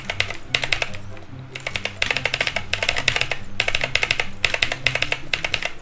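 Rapid clacky keystrokes on a mini RGB gaming keyboard, loud and close, come in dense bursts separated by short pauses, with no speech over them.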